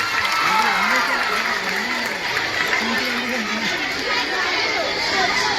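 A crowd of girls at a high school claps together in a busy room, the applause blending with overlapping voices and chatter.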